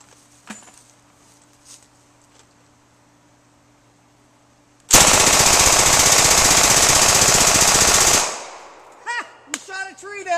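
A 1927A1 Thompson submachine gun fires a sustained burst of about three seconds outdoors, a loud, rapid rattle after quiet moments, followed by a few short sharp sounds and voices.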